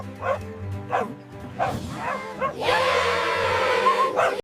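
Cartoon puppies of a rescue team bark together in a loud, overlapping group chorus, with scattered yips and barks early on building into a dense, sustained burst of barking over bright music near the end.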